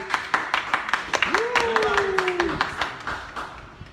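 A concert audience claps in sharp, spaced-out beats, close and fairly loud, while a voice speaks and a brief tone rises over the clapping.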